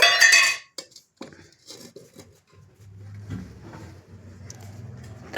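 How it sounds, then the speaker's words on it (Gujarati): A cooking pot set down on a lit stove for khichdi, a clear metallic clunk and clink of cookware near the start, then quieter rattling and a low steady hum of the burner. "હવે આપણે પેલા તપેલું મૂકી દેવી."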